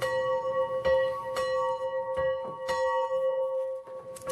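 A church bell rings with a sustained humming tone, struck several times at uneven intervals, each strike adding a bright clang over the lingering resonance.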